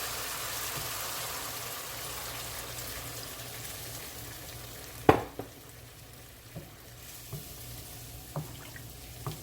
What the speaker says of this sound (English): I'm going to go ahead and add some coconut milk.